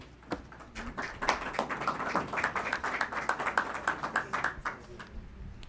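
Guests at a lawyers' certificate ceremony clap for a new graduate, a modest round of distinct, fairly close hand claps that builds quickly and holds a loose rhythm before trailing off.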